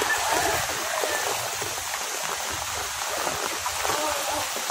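A river swollen by Typhoon Enteng in Burdeos, Quezon, flows in a steady rushing, gurgling wash with splashy surges, heard close and continuous, with wind-like rumble underneath.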